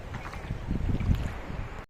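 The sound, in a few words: sea waves on the beach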